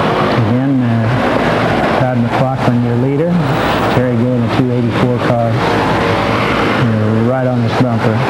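Street stock race cars battle at Cajon Speedway, their engines rising and falling in repeated revving sweeps under a loud voice.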